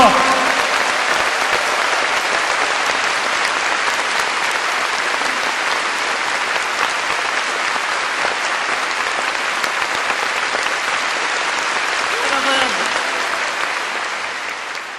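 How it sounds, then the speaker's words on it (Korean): Sustained, dense applause from a large audience at a Seonghwa memorial ceremony for True Father, a steady roar of many hands lasting throughout and easing slightly near the end. "더 큰 힘찬 박수를 보내주시기 바랍니다."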